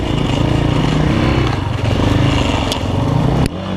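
A KOVI Lite 300 enduro motorcycle rides off-road, its engine droning loud and close with a rough, pulsing note, ending in a sudden drop in sound.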